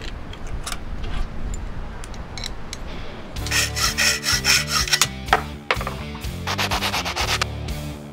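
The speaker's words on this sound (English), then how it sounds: "take the tip from the old burner, cut it to make a nut" Metal cutting on the tip of an old gas burner: a rough scraping saw stroke at first, then a louder stretch of rhythmic grinding strokes with bright rasping bursts, close and alone.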